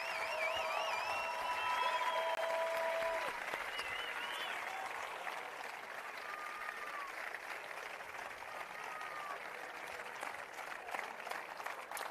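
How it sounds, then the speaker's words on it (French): An audience applauds at the closing ceremony of the JIJ Athens 2024 games, broadcast live in Grammatiko. Sustained crowd clapping runs throughout, fullest in the first few seconds, with a few whistles and cheers over it. "Sous des applaudissements, s'il vous plaît, un peu plus nourris que ça"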